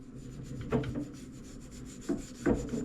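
Carbon paste is rubbed around a bicycle dropper seat post on a Trek Farley, giving faint soft scuffing strokes, a few short rubs spaced irregularly and heard close with no talk.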